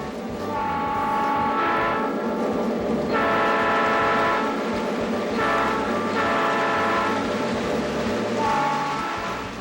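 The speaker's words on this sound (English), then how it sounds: "the thrilling sounds of the railroad, from rousing steam whistles to powerful diesel horns" Toy railroad sounds from a Lionel ready-to-run train set: a loud, near horn blares in several separate blasts of a second or two each, with rail rumble running beneath the gaps between them.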